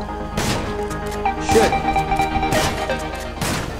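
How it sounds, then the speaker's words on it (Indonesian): Shotgun blasts tear into a Toyota C-HR in the video game GTA 5, with several loud, sharp impacts spaced about a second apart, each a crashing burst over a steady game background. "Ini gua pakai shotgun. Jadi sekali tembak beberapa partikel ya tuh yang keluar."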